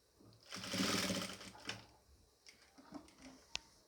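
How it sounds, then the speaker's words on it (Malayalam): A sewing machine stitches a nightie, one fast whirring burst of stitching followed by slower, scattered clicks and taps from the machine, close up. "ഇങ്ങനെ ഇതേപോലെ വട്ടത്തിൽ ഒരു ഡബിൾ സ്റ്റിച്ച് ഇട്ട് കൊടുക്കുക"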